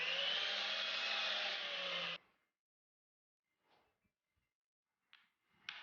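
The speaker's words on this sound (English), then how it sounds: "Measure and mark HMR, then cut using miter saw." A miter saw cuts through an HMR board in a single loud, even cut of about two seconds. Near-silence follows, with a few faint knocks.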